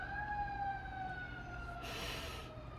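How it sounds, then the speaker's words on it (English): Fire engine sirens wailing at a distance in a residential neighbourhood, a steady sustained tone sliding slowly in pitch over low rumbling background noise, with a brief burst of broadband hiss partway through. "There's fire engines, and it's scaring my cat."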